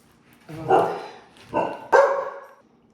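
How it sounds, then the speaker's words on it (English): A hungry dog barks three times in a short, close, moderately loud series with brief pauses between barks, in a quiet indoor kitchen. "the dog was barking, wanting to eat"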